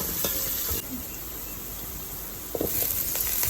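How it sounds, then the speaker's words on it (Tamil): Onions and curry leaves sauté in hot oil after mustard seeds have popped, giving a steady close sizzle. Brief stirring scrapes sound over the hiss and it grows a little louder near the end. "கடுகு நல்லா பொரிஞ்சதுக்கப்புறம் வெங்காயம் போட்டுக்கலாம். கருவேப்பிலை இதெல்லாம் சேர்த்து நல்லா வதக்கலாம்."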